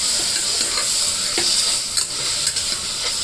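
Mutton pieces fry loudly in a pot, a dense close sizzle that crackles and spits while they are stirred, with a few soft scraping knocks.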